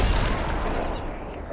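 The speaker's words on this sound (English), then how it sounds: "Also gunfire behind us." Gunfire in the Fortnite video game, a short dense burst of rapid shots with a heavy low rumble, steady and fairly loud throughout, with no voices over it.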